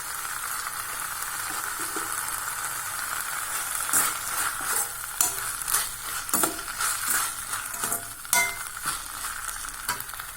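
Tomatoes and curry leaves sautéing in a pan for a meal maker kola kulambu, a steady low sizzle with sharp stirring scrapes and clinks of a spoon against the pan, close and without talk.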